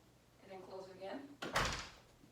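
A door swings open and then shuts during a training session, giving a sharp knock followed by a louder rustling thud and a fading rattle, while voices talk quietly just before.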